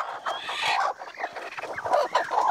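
Several hens, some broody, cluck and murmur continuously at close range on a poultry farm, overlapping calls rising and falling with no talking.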